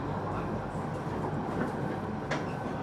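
Tazawako Line train running near Kakunodate, a steady rumbling roar of the carriage in motion heard from inside, with a faint click or knock near the end and no clear talk.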